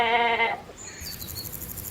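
A goat bleats once, a loud nasal wavering call lasting about half a second, followed by faint rustling and a high chirping or insect-like tone in the background.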